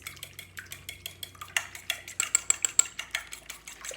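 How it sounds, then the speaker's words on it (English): A whisk beats a cream and vanilla mixture for stuffed French toast in a bowl, giving a steady run of quick, close clicking taps that grows louder and sharper toward the middle. "Good little whisk."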